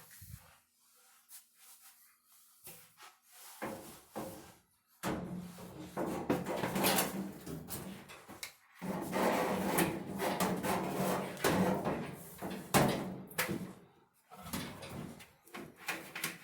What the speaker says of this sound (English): So getting the drum into the dryer, you want to line up the drum with those grooved out parts there on the front.